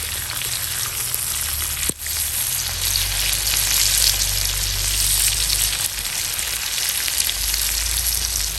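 Kingfish pieces frying in oil for fish dum biryani, a loud, dense and continuous crackling sizzle, with one brief knock early on.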